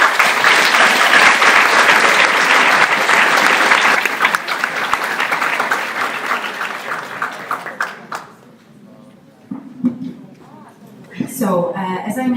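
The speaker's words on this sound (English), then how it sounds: "So big applause for our speakers." A congress audience at a student symposium applauds the speakers with loud, dense clapping that fades after several seconds, leaving a quieter stretch before a voice begins talking.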